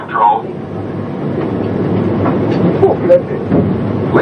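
Disneyland Alweg monorail running, a steady low rumble with faint rhythmic clatter and a few light squeaks, heard from inside the car while a voice speaks over a PA.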